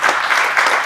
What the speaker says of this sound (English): give a huge round of applause for all the volunteers and the TNPL committee